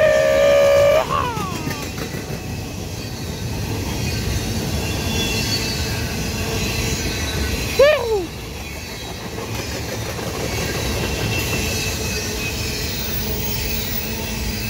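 A Norfolk Southern freight train rolls through Seneca, Georgia, its cars rumbling steadily close by with wheel squeals rising briefly near the start and again midway.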